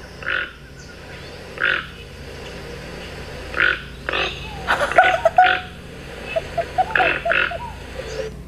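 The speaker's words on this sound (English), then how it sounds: "Do you want to hear the toucan sound?" A series of short, hoarse croaking calls repeats at irregular intervals, growing busier toward the end, like a large tropical bird calling, with no talk.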